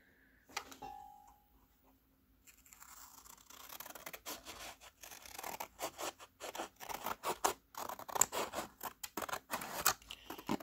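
Scissors snipping paper for a journal flip, quiet at first, then a close, rapid series of crisp cuts and rustles that grows busier toward the end.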